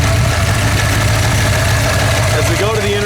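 A 347 stroker V8 runs steadily in a 1966 Mustang, a loud, continuous rumbling idle close by with someone talking over it.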